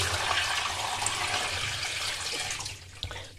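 Rice-rinsing water is tipped out of a pot into a kitchen sink, a steady close splashing gush that runs for about three seconds before trailing off into a few drips.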